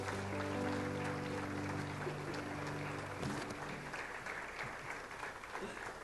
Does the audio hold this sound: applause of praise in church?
yes